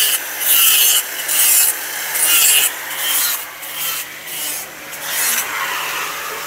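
A machine sands bamboo flutes in a flute-making village, giving a harsh rasping rub in repeated strokes that rise and fall, loud and close with no talk.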